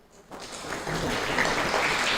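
Audience applause swells up after a quiet start and holds steady as a welcome for a woman stepping forward at a Missing Children's Day event, a dense, sustained clapping from a gathered crowd.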